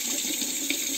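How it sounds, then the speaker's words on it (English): Tap water runs steadily from a faucet into a sink while a Muhle Rocca R94 safety razor is rinsed, a continuous close splashing flow with no break. "Washing the razor,"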